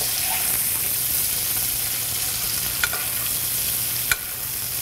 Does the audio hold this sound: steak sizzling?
yes